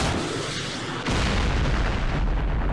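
Howitzer fire from 150 mm German guns in the Campaign Series Vietnam game, Battle of Pleiku 1968: a muffled rumble gives way to a sudden heavy boom, followed by a loud, sustained rolling blast with no talk.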